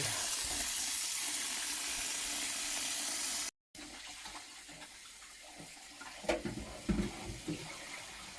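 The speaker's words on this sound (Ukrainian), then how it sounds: "Тепер треба нам його промити холодною водою гарненько-гарненько промить холодною водою, щоб вимити всю сіль." Cold tap water runs in a steady hiss into a sink while salted silver carp is rinsed by hand, briefly cut off, then resuming with softer splashing and a few louder handling knocks near the end.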